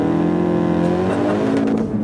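A Ford Focus RS launches hard under launch control from first gear, its engine roaring loudly and rising in pitch as the car pulls away; a brief, close, continuous acceleration with no voices.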